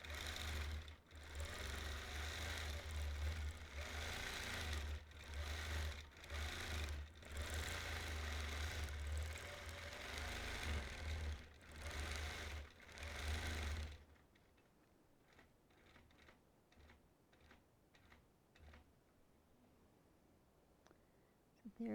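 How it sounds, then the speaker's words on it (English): A quilting machine runs at high stitching speed with its plate rattling hard, a loud rapid mechanical chatter in bursts that abruptly drops to quieter, sparser ticking for the final stretch. "when I hit a certain speed, it makes my plate really rattle"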